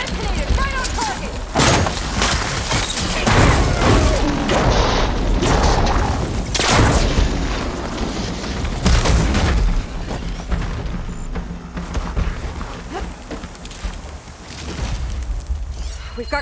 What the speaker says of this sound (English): Detonated right on target!